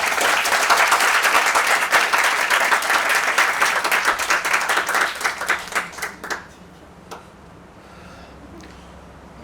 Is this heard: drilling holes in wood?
no